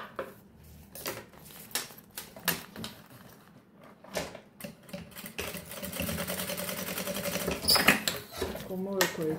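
A sewing machine stitches synthetic fabric for a small pouch in short, rattling bursts, then runs faster in a longer continuous whirr, with someone talking quietly over parts of it.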